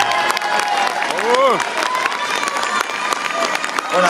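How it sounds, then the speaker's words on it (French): Audience applause at an evening concert during Brumath's onion fair, a sustained crowd clapping with scattered cheers and a whistle, fairly close and even throughout. "on peut les applaudir"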